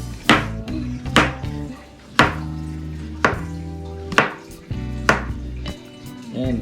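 A knife slices a banana on a cutting board in sharp, evenly spaced strokes, about seven in all, close up with no talking.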